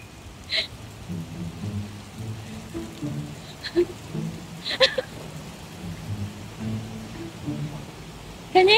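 Steady rain falls outdoors as a broad, even hiss with scattered louder drops and patters, while low voices murmur faintly beneath it.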